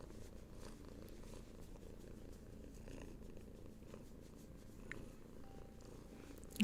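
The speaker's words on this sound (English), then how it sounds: "You can probably hear my cat Hattie purring" A pet cat purrs steadily and close by, a soft continuous rumble with no talking over it.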